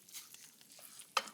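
Masoor, moong and urad lentils roast lightly in rice bran oil, giving a faint, soft hiss with small stirring scrapes and one sharp clink near the end.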